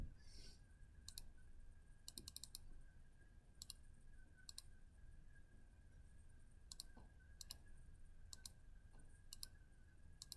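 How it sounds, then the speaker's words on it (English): Faint, sparse keyboard typing in a quiet room, irregular clusters of light key clicks spread across several seconds over a low hum. "And so we'll just go ahead and start typing."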